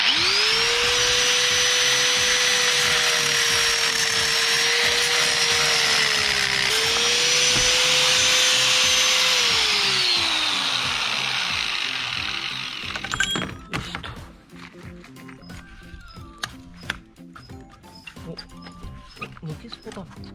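A power tool cuts through a bent, twisted metal shaft on an amphibious vehicle recovered from a collapsed barn, a loud sustained whine holding pitch then winding down, followed by scattered clanks and handling noises.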